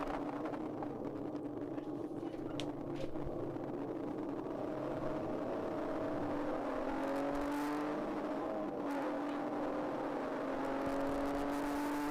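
Race car engine held on the rev limiter during a 12-hour endurance race at VIR South, a steady high-pitched drone with rising harmonic sweeps, heard from inside the car, continuous and moderately loud with no talk.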